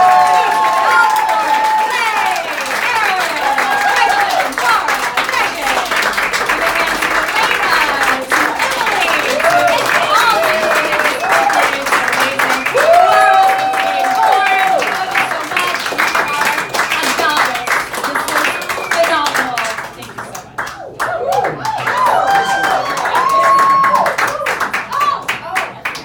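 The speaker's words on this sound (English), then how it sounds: "one more round of applause for the Von Westman family singers" An audience applauds the Von Westman family singers at a birthday show, dense clapping running steadily with cheers and voices mixed in. It dips briefly near the end, then swells again.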